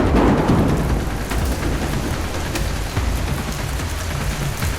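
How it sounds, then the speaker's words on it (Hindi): Heavy rain pours down in a steady, dense hiss, loud and continuous with a slightly stronger burst at the start and no voices over it. "लेकिन बारिश और तेज हो गई।"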